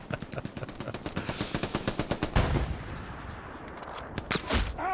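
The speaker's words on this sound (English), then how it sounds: "Trying to set up the MG." Machine gun fire in Hell Let Loose on the Kharkov St. Mary's map: a steady rhythmic burst of a dozen or more rounds, then a heavier blast and scattered further shots, moderately loud.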